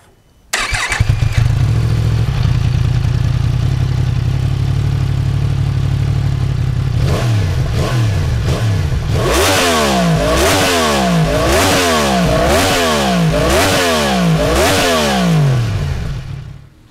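A 2022 Yamaha MT-10 SP motorcycle with its stock exhaust starts and idles loudly up close, then revs repeatedly in rhythmic rising and falling sweeps before cutting off.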